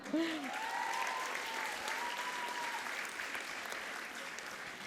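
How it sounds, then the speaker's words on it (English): Audience applause for teachers at a school ceremony: a sustained, even wash of clapping that holds steady for several seconds, with a faint gliding tone riding over it. "Give them a clap"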